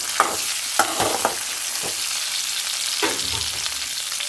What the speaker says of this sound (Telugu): వేసేసి ఇది కూడా నూనెలో వేగాలండి.